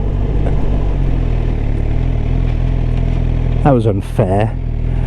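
A motorcycle on a quick evening ride runs with a steady engine drone and quick rev blips as it drops through several gears. Someone speaks briefly over the engine noise.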